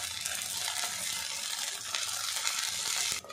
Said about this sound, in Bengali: এই কড়ার মধ্যে সাবুর ব্যাটার দিয়ে দেব আর একটু পাতলা করে দেবো এইভাবে।